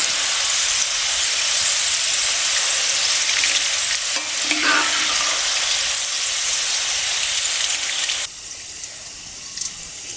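Lentils deep-fry in hot oil over a high flame for dal chanachur, making a loud, continuous hissing sizzle with bubbling that eases somewhat toward the end; no voices.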